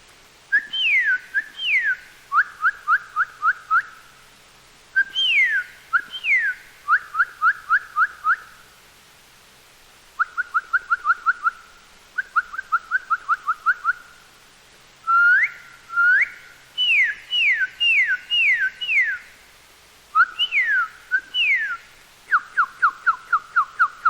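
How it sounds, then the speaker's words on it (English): Bright, clear northern cardinal whistles in repeated bursts, some rising slurred notes and some quick runs of identical chirps, loud and close with short pauses between phrases. "The cardinal has several beautiful calls."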